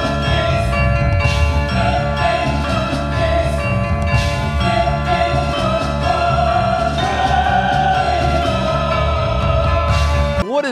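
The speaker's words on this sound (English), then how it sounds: "I am sitting on the only portable touring carillon in North America." A portable touring carillon of four tons of bronze bells at an outdoor Renaissance fair plays a continuous ringing melody, many overlapping bell tones sounding close and loud throughout.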